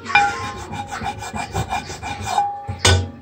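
A cast iron skillet being scrubbed with salt, giving a close, gritty rasping rub in quick back-and-forth strokes, ending with a brief knock.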